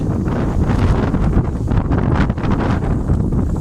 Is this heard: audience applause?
no